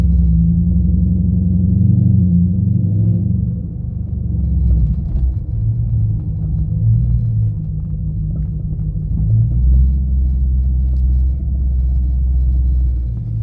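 Steady low engine rumble of a 2013 Dodge Charger R/T with the 5.7L Hemi V8 while driving on the road, continuous and fairly loud throughout, with slight shifts in tone as it moves along.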